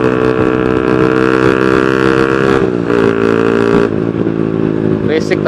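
Honda CB150R motorcycle fitted with a Spartan GP racing exhaust, running loud and close with a throaty, steady note that briefly dips and then picks up again.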